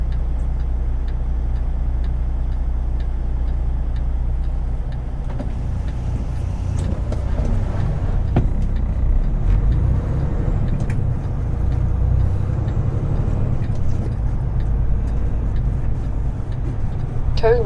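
A truck rumbles past on the road beside a vehicle waiting to turn, a loud low drone that swells in the middle and fades off, with ticking and a voice inside the cab.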